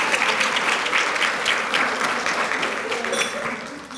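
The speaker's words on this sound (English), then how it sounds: "Let's give Ms. Pointer another round of applause." Steady, dense clapping from a room full of employees at a Women's History Month recognition ceremony, loud and continuous throughout, easing slightly toward the end.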